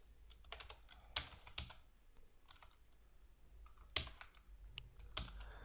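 Typing on a computer keyboard while writing Android code: a few sharp key clicks scattered in irregular bursts, close and fairly quiet, with no voice.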